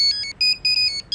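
A mobile phone rings with an incoming call, a loud electronic ringtone of repeating high beeping tones in short bursts, heard alone with no talking.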